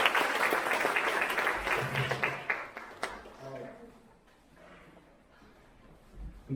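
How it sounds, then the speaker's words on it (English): Applause at a graduation ceremony rises as a broad wash of clapping from a large audience, strongest at the start and then fading, with a voice speaking over it. "can we get another round of applause for Mr."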